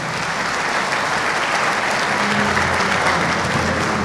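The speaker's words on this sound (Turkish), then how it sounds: "gelenlere özel bir alkış isterim arkadaşlar" A crowd at a Turkmen gathering in Kirkuk gives loud, continuous applause for visiting supporters, a thick, steady roar of many clapping hands that fills the room and holds without pause.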